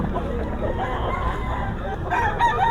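A rooster crows loudly and close by at a busy gamefowl market, with clucking and other fowl around it over a steady crowd murmur.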